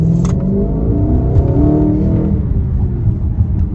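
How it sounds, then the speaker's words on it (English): An Audi RS5 with an AWE track exhaust roars loudly and close, the engine revving up and climbing in pitch, then settling into a deep rumbling drone. "It's got this awesome AWE exhaust on it. It's an AWE track exhaust"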